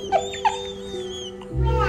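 A dog at the edge of a ravine gives two short yelps or whimpers near the start, followed by a low rumbling sound near the end, with steady background noise throughout.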